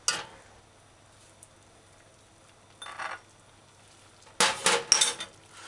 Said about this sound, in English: Stir your pot in a few times.